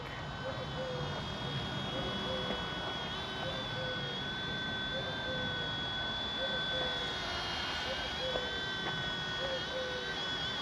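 A small RC ERA C129 V2 four-channel radio-controlled helicopter hovers and flies outdoors, its motor giving a steady high whine with slight pitch wobbles over constant background noise.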